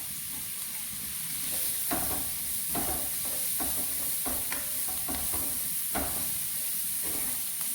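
Green pepper goes into a sizzling beef and vegetable stir fry, a steady close hiss of frying broken by repeated clacks and scrapes of a spatula stirring the pan.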